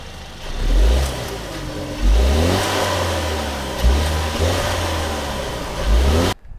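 A Kia Stinger GT Line's 2.0-liter turbocharged four-cylinder engine revs up repeatedly, four loud rises in pitch that fall back toward idle between blips, heard close with no talking.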